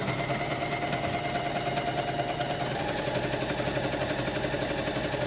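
Janome coverstitch machine running steadily, a fast, even mechanical whirring with rapid rhythmic needle ticking, close and continuous with no talk.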